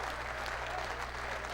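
A football crowd at Burton Albion versus Exeter City applauds in 2008, a steady, distant wash of clapping that is fairly faint.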